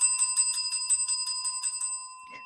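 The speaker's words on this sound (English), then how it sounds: "We're ringing bells for you, babe." Bright metallic bell rings in a quick, even series of about a dozen strikes, fairly close and clear, then stops, with no talking over it.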